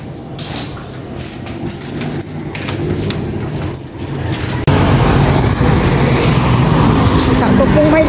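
A motorized tricycle rumbles along a rural road, its engine noise building and then jumping louder as it pulls up close, with faint voices in the background.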